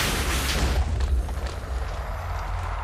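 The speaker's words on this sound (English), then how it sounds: "that explosion radius is larger than it appears" A wither explosion in Minecraft, modded Agrarian Skies pack, bursts as a loud low boom that decays into a rumbling tail over a few seconds.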